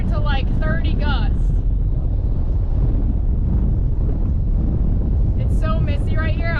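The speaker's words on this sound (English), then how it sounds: "Literally it just went from blowing 3 miles an hour to like 30 gusts." Strong wind gusts roar across a boat on open water near waterspouts, a constant heavy rush buffeting the microphone, with brief voices at the start and end.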